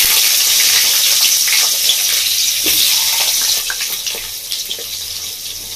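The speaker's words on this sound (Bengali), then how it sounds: "তো আমি এবার আলু আর বেগুনটা তেলের মধ্যে" Potato and young eggplant frying in hot oil over a medium gas flame, giving a steady, loud hiss and sizzle throughout that eases slightly toward the end, with no talking.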